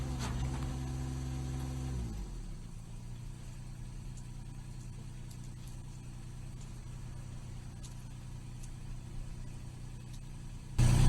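An excavator being driven in the dark, its low steady engine hum running alone after a louder opening two seconds, with a sharp rise in level right at the end.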